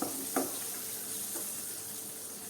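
Soft, steady sizzle of spices tempering in hot oil, faint and continuous with a couple of small pops near the start; no one speaks.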